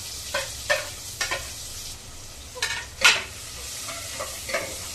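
Onions fry in hot oil in a pan while being stirred, a continuous sizzle broken by repeated close scraping and clinking strokes.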